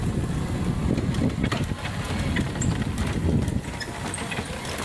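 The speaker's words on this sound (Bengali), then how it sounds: "এই জায়গায় দুপুর টাইমে বিকাল টাইমে হলো বাতাস বেশি" Strong afternoon wind blowing along a road, a loud continuous rumbling buffet of gusts close to the microphone with no voices.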